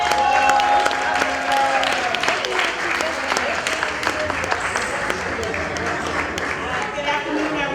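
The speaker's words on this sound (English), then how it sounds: "Please welcome with warm applause for Judge Tatanisha James." Sustained, dense applause from an audience at a community Kwanzaa celebration, steady clapping from a crowd at moderate loudness, with a few voices faintly audible under it.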